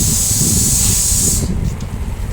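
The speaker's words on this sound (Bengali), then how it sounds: "এবার এর মধ্যে একটু জল দিয়ে ভালো করে কষিয়ে নেব" Water splashed into store-bought ground garam masala frying in a pan. It gives a loud, steady sizzling hiss that cuts off sharply after about a second and a half, leaving a low, rumbling simmer.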